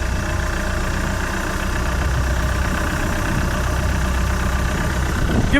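Budget boat's engine idling while its carburetor is adjusted, a loud steady close rumble that holds even throughout, with no change in rhythm.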